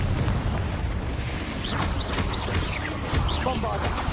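Spell blasts from the Confringo fire curse in a Harry Potter video game: several sharp bursts and booms over a busy, continuous bed of game noise and music.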